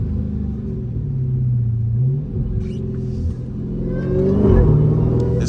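Dodge Hellcat engine revving loudly through a corner on a rainy road, a deep close rumble that dips briefly and then swells again as the car accelerates out of the turn.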